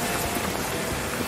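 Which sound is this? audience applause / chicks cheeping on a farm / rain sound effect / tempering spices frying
rain sound effect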